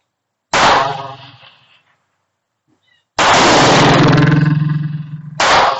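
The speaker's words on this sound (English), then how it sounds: "We're going to be shooting out of my 9mm 365 XL." Two loud, sharp 9mm pistol shots from a Sig P365 XL, about three seconds apart, each with a booming ringing decay, and a third blast starting right at the end.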